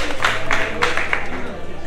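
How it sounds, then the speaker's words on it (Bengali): A crowd at a motorcycle event in Bangladesh breaks into brief, steady applause for a speaker, the dense clapping close and continuous for a couple of seconds. "ভাইয়ের জন্য একটা করতালি হবে।"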